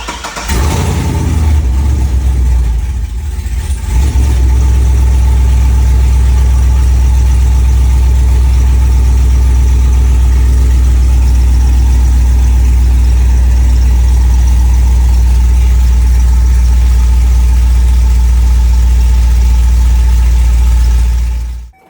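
A truck engine starts after a transmission change and settles into a loud, steady, close idle that runs for about twenty seconds without talk.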